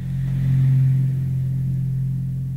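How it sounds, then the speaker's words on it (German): A tractor engine drives past nearby, a steady low droning rumble that swells as it approaches and then holds at a loud, even level. "Diese scheiß Traktoren."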